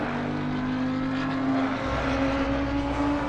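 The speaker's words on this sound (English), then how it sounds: "You can hear the engines not at full chat through that section" A GT3 race car engine at Spa in Assetto Corsa Competizione drones steadily below full throttle, with a sustained tonal hum that shifts slightly in pitch partway through.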